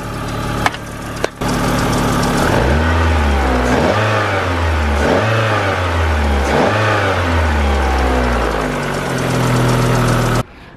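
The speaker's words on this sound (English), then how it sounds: "I apologise, my engine is a bit noisy." Car engine fitted with a standard airbox revving up several times in a row, each rise in pitch falling back toward idle, loud and close with a steady mechanical drone and no talking.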